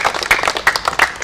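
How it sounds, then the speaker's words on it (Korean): A short burst of audience applause at a Korean poetry reading and anthology launch event, uneven claps with a few sharper hits standing out over about a second. "우리 편집국장님 큰 박수 부탁드립니다"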